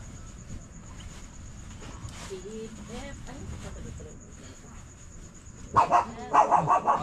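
A pet dog barks several times in quick succession near the end, loud and close, after a stretch of indoor background noise with faint voices.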